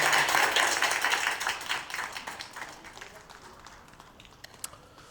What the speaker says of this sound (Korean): 오늘 박수로 축복해 주시기 바랍니다.